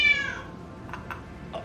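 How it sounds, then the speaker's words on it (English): A house cat meows once loudly and close at the start, its cry fading into a quiet room, followed by a few faint soft sounds. "she comes out to meow"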